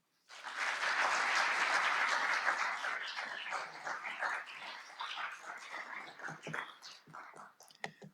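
An evening MLK keynote audience breaks into warm applause for the keynote speaker, starting suddenly as a full, dense round of clapping that holds steady, then thins into scattered individual claps before trailing off.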